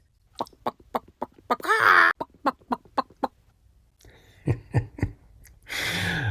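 A person imitates a chicken clucking, giving a run of short, sharp clucks followed by a rising squawk, then more clucks and a breathy burst, loud and close with no other talk.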